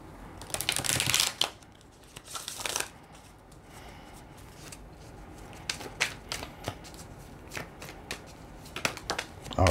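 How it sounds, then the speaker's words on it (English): Tarot advice cards being shuffled, with a loud riffling burst at the start, another around the middle, and softer scattered card slaps and shuffles afterward, close and alone. "let's pull some advice cards here to see how you can work through this"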